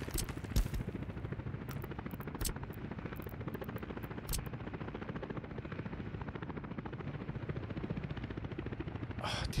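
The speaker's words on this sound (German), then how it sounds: "Ich würde gern einfach nur die Helikopter-Sounds runterschrauben" Helicopters drone continuously in the city-building game Workers & Resources, a loud steady rotor chop throughout with no talk over it.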